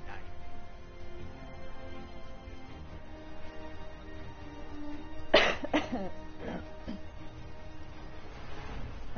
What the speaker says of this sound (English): I keep coughing so much.